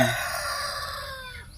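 On a chicken and pig farm, a rooster crows loudly and close, one long drawn-out call that falls off at the end, with other chickens faintly present.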